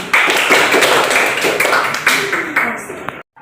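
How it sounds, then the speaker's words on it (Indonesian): A classroom of children clapping their hands together during a religious education lesson, a run of sharp claps spread through the room with voices mixed in beneath. "Oke, tepuk tangan"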